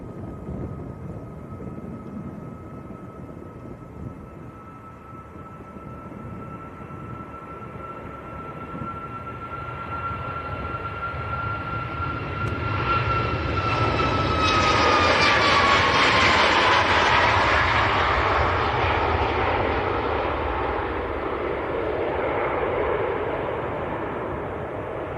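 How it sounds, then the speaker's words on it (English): A Ryanair Boeing 737 MAX jet takes off at Manchester Airport, its roar building from a distant rumble to a loud broadband blast with a whining tone that drops in pitch as it passes, then fading slightly. "Ryanair next to go, 738 Max."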